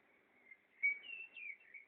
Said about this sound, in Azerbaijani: Quşlar oxuyur yenə.